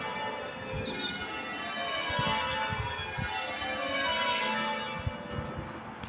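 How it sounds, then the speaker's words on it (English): Church bells peal continuously with overlapping, echoing strikes, ringing steadily at moderate distance with no voices. "Gorgeous bells."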